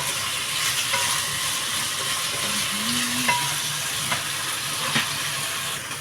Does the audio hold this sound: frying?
yes